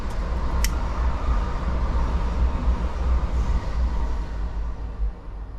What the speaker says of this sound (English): And you're an incoming train.